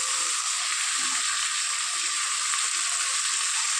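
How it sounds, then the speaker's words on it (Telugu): Mint and coriander leaves cooking in a hot oil tempering for a vegetable pulao made with regular rice give a steady, close, continuous sizzle with no break and no talking. "ఈ పుదీనా కొత్తిమీర బాగా మగ్గించుకోవాలండి తాలింపులో"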